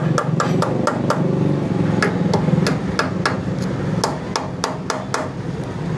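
Light, quick hammer taps on a thin rod around a jammed carburetor of a Honda CD70 motorcycle, a steady run of a dozen or more close ticking strikes over a constant low background hum.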